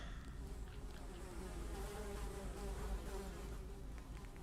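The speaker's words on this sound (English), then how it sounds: "Despite the buzzing flies, you hear the faintest sound of rushing water" Flies buzz inside a dank latrine in the game The Secret of Weepstone, a faint, continuous droning hum with wavering wingbeat tones and no voices.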